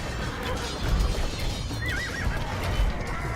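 Video game horses neigh and whinny over busy clip-clop hoofbeats, the calls rising clearly above a dense battlefield-style background din.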